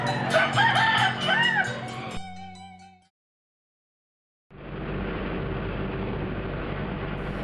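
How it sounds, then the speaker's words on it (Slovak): Roosters in a Balinese village crow repeatedly at close range over farmyard clucking, then the sound cuts to a pause before a steady outdoor rumble takes over. "Neodmysliteľnou súčasťou každej balijskej dediny sú všade prítomné kohúty."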